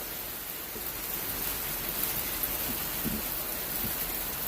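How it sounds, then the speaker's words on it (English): Hail and icy precipitation falling in bad weather make a faint, steady hiss, broken by a few scattered soft taps, with no one speaking. "Yeah, here comes some more hail."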